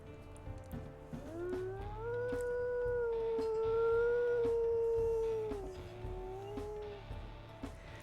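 A wolf pup howls in the video game WolfQuest: one long, sustained, wavering howl that rises, holds steady for several seconds and then fades, close and clear over a low background hum.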